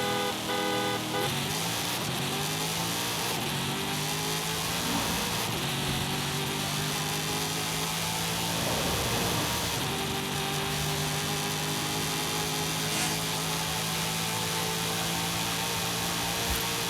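A tuned high-boost car with 800 lb-ft of torque and 15 psi of boost revs and accelerates in the racing game Forza Horizon 5, a loud continuous engine roar with rising and falling pitch sweeps and no talk.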